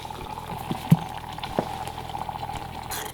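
Mackerel simmering in Thai sweet chili sauce, a steady soft bubbling and low sizzle with occasional small pops, close and continuous without talk.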